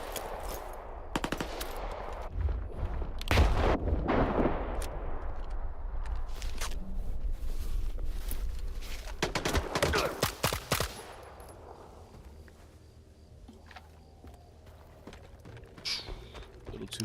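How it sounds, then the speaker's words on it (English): Grenade blasts and gunfire in the game S.T.A.L.K.E.R. 2: a series of loud, close explosions and bursts of shots in the first half, then scattered shots and quieter reports. "I'm throwing as many grenades as possible at them."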